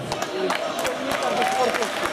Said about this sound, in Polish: wielkie brawa dla zespołu z Siemianowic